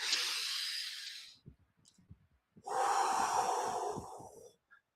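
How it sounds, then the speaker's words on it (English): Deep, focused breathing sessions: a long, loud, airy inhale, a pause with small soft sounds and thumps, then a second long forceful breath, close and alone. "it's just the focused breathing, the attention to the breath. I'm breathing in more life force."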